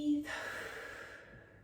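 A single audible exhale during a Pilates stretch-and-tone workout: a soft, breathy sigh that fades out over about a second after a short voiced onset, close to the mic.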